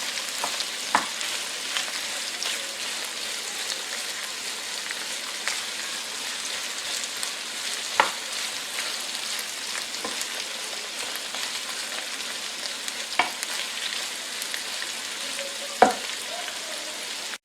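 Peppers, chicken and sausage stir-fried together for Peruvian fried rice, giving a steady close sizzle with scattered scraping clicks from stirring, running alone without talk.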